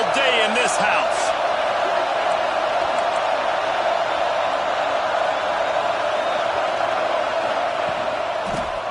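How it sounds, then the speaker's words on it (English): A packed football stadium crowd roars steadily through a kickoff at a Nebraska at Georgia game, a dense, loud wash of cheering that holds for the whole stretch with a commentator's voice faintly over it. "This crowd trying to show them what it's going to be like all day in this house."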